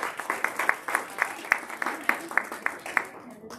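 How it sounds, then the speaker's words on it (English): A small audience at a public lecture on drug policy claps for a guest speaker, sparse and distinct hand claps in a loose, uneven rhythm, fairly close and fading out at the end. "Can we get a round of applause for him?"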